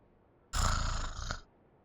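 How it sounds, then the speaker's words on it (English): Paimon, the small floating companion in Genshin Impact, lets out a single loud, rough snore lasting about a second, close and on its own with no talk around it. "You slowly fall asleep to the sound of Paimon snoring"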